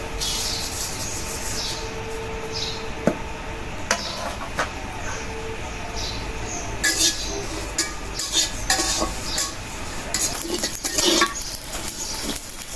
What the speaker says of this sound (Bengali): তারপরে এই যে জিরাগুলি ভাজা নেব